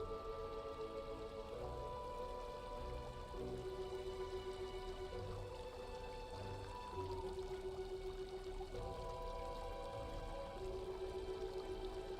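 Water pours and trickles steadily into a vessel for drinking, a faint continuous splashing flow heard under sustained background music tones.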